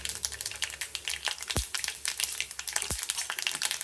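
Fenugreek hitting a hot pan for bitter gourd pathrade: a close, dense frying crackle with rapid spitting pops and two sharp knocks against the pan, no talking.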